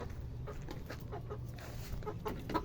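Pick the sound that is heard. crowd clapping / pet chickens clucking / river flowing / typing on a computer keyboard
pet chickens clucking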